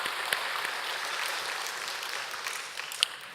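Congregation applauding during a Sunday church service, a short, full burst of many people clapping together, fairly close and fading slightly toward the end.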